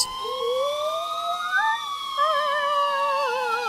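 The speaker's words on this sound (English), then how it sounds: "I waited for what felt like hours, until I finally heard sirens in the distance." Police sirens wail at a distance, several overlapping rising and falling tones sustained steadily throughout with no voices.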